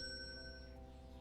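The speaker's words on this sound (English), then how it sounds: "my alarm's going off" An electronic alarm sounds as a steady, bright, sustained ringing tone that stays fairly faint and close for its short length.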